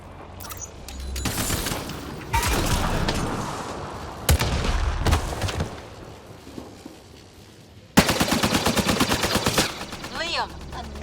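Bursts of rapid gunfire and heavy weapon blasts from a Mass Effect Andromeda firefight, loud and close, with sustained automatic volleys and sharp booms, while voices shout over the combat.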